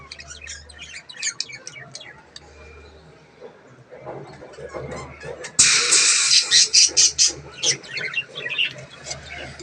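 Pet birds chirp in quick, dense bursts that grow louder and busier partway through, with scattered rustling and low background noise under the calls.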